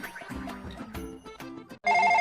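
A mobile phone ringtone plays a short tinkling melody, then switches to a loud steady electronic ring tone near the end, close and clear with no talk.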